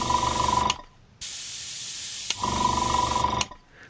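An Iwata Smart Jet Pro compressor feeding an airbrush gives a steady, close hissing spray in several bursts, a strong jet first, then a long softer stretch, then another strong burst before it cuts off.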